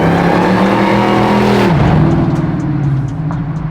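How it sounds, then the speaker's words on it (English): Supercharged Hellcat engine in a pro-touring Plymouth Cuda swap, close and loud, with a steady rising whine and engine roar that drops briefly as it shifts, then builds again while accelerating. "The whine of the Hellcat blower is so good."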